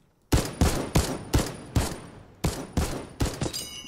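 A weapon fired in Fortnite, nine loud close shots spaced at an even, deliberate pace, each a sharp crack followed by a short decaying tail, with a faint metallic whine near the end.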